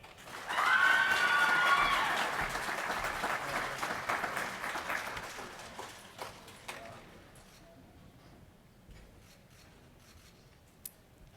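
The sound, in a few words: applause for graduates at a graduation ceremony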